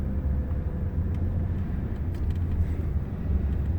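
Steady low rumble of a Lincoln MKZ autonomous shuttle driving itself around a lake loop, continuous road and engine drone from inside the cabin with no talk.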